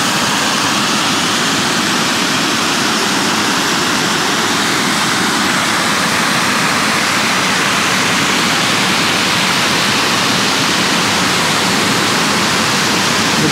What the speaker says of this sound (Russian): можете видеть, такой водосброс тут есть